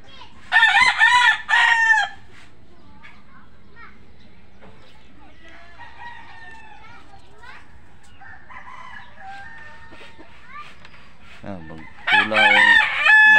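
A rooster crows loudly nearby, followed by quieter bird and background chatter, then another loud crow at the end.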